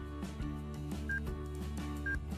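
Several short keypad beeps sound while a code is entered on a Diagral GSM alarm transmission module, quiet tones in a quick, even sequence.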